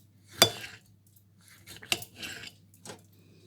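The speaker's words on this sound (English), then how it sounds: "Then afterwards we get a normal tomato. Cut it. Six little slices." A knife cuts a tomato into slices with a few sharp, separate taps and clicks against a board or plate, spaced out over a few seconds in a quiet kitchen.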